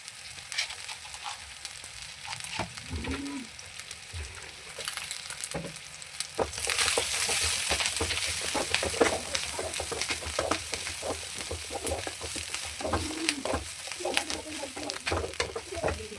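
Garlic, cinnamon and cloves sizzle in a pan for sambar, a steady close frying hiss that swells louder midway, with stirring and brief scraping over it and a little faint background noise.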